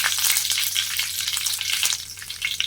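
A dried Byadgi chilli crackles in hot oil in a home kitchen. A dense, bright frying hiss is dotted with rapid pops and spatters, loud and close, with no voices.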